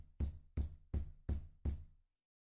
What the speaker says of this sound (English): Todd's still pounding on the door like a madman.